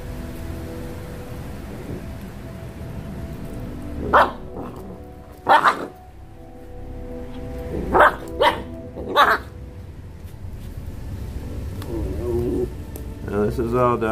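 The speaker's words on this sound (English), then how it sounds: "This is all dogs talking. This is all canine communication." Eight-week-old Lycan puppies bark and yip in short bursts while tearing into a raw chicken carcass, several sharp barks standing out over a steady noisy background.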